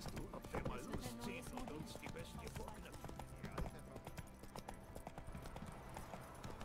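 Horse hooves clip-clop in a steady, quick rhythm in the video game The Witcher 3, with a faint whinny now and then, while someone talks over them throughout.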